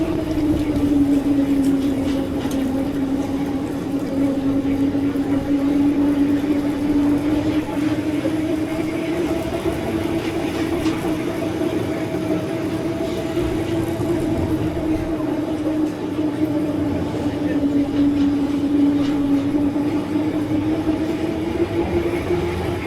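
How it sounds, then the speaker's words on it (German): Roller coaster car running downhill at an amusement park in Beijing, a steady droning rumble and whine that holds for over twenty seconds without pause. "Ja, das ist eine Achterbahn."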